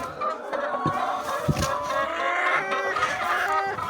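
Egg-laying hens in a layer house cluck and chatter continuously at close range, a busy flock noise with a few sharp knocks mixed in.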